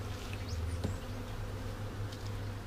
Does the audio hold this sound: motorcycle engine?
no